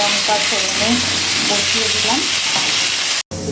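Dry red chillies sizzle loudly in hot oil as a tempering for an Indian vegetarian dish, a steady close frying hiss with some stirring, cut by a brief drop near the end.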